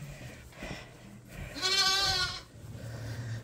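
On a sheep farm, a lamb lets out a single clear, wavering bleat at close range, rising out of low background rustle and quiet handling noise.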